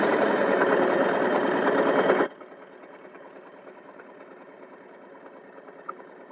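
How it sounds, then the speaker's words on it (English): A sewing machine with its thread-cutting knife engaged whirs loudly and steadily for about two seconds, then stops abruptly, leaving a low hum and a single faint click. "Now watch as the machine cuts the thread as I sew."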